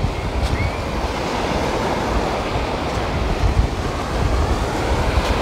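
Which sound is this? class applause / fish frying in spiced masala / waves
waves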